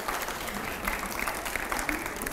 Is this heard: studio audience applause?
yes